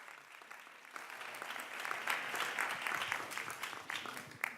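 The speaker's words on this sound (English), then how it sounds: "so clap loudly" An audience at a high-level event at the United Nations applauds: a steady wash of many hands clapping that swells into a fuller burst and carries on until the end, with faint talk beneath.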